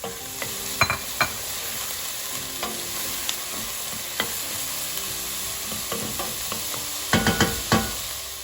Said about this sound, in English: I'm going to add the vegetables, saute them down for a few minutes